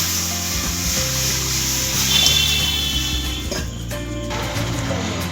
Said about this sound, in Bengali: কড়ায় আমি জল দিচ্ছি চাউমিনগুলো